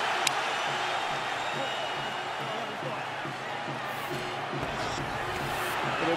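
Boxing arena crowd at Mayweather vs Hatton, a steady distant roar of cheering under a commentator's continuous talk.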